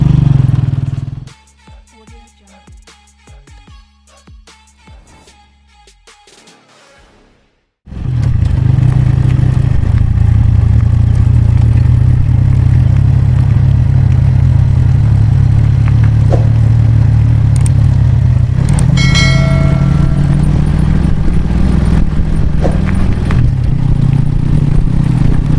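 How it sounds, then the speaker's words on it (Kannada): A motorcycle ridden at night. After several seconds of quieter clicking and tonal sounds, a loud, close engine drone kicks in abruptly and holds steady, with slight shifts in pitch as it runs. "ಬನ್ನಿ ಫ್ರೆಂಡ್ಸ್, ಬೈಕಲ್ಲಿ ಹೊರಟಿದ್ದೀನಿ"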